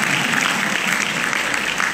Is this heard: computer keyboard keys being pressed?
no